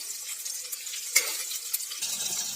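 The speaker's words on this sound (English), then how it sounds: "Now I'm going to add chili and ginger and saute it only for 2 minutes" Chili and ginger sauté in a pan with a soft, steady sizzling crackle, close by and moderately quiet, broken by a couple of light clinks.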